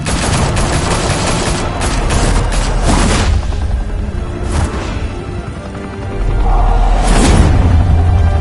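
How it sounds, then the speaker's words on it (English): Heavy bursts of gunfire in Batman: The Telltale Series video game, loud rapid volleys and booming shots clustered in waves, with whooshing blasts between them and no talk. "Open fire!"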